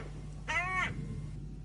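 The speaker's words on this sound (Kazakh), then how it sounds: "сосын кәдімгі қарғаның дауысы қарқылдайды" A hooded crow in a yard gives one harsh caw that stands clearly above a quiet background hum.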